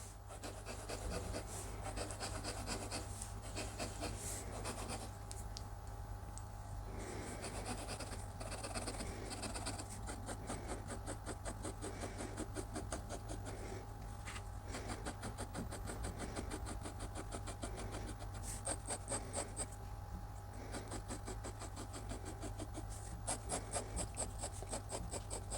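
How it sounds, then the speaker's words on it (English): Nib of a Hero fountain pen scratching across cheap paper while writing, a continuous rough rasping and rubbing that runs for the whole stretch over a steady low hum, close and fairly quiet. "I don't like scratching up my expensive paper"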